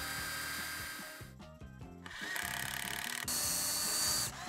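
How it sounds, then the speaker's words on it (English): Drill gun pre-drilling into wood while building a vertical garden frame: a cordless drill whirs up in several bursts, motor pitch rising and settling as the bit bites, close and clear with no talk. "You want to take a drill gun and pre-drill that"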